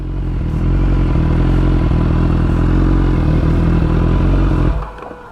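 BMW S1000RR motorcycles (2016 and 2010 models) run loud and close, a steady heavy engine drone that drops away abruptly near the end.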